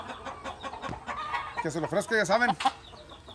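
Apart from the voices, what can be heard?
rooster Liper clucking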